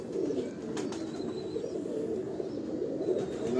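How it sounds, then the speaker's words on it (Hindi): Pigeon cooing on a rooftop in Lahore, a low, steady, continuous murmur of coos close by, with a few faint higher chirps from other birds above it and no talking. "लाला ये हमारा सबसे फेवरेट कबूतर है।"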